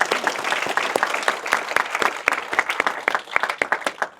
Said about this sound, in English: please a round of applause for Craig